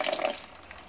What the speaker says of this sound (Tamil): சும்மா வெறும் தண்ணியில் நம்ம அலசிடலாம்